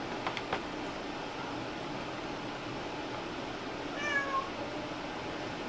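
A cat gives a brief, faint meow in the middle of a room while someone works on a PC build, set against steady background hiss with a few light knocks.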